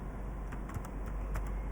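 Keys tapped on a computer keyboard in quick, light bursts, close by and fairly quiet against a steady background hum.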